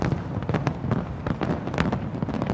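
New Year fireworks over Sydney at midnight, a dense run of crackling bursts and pops packed together, loud and continuous.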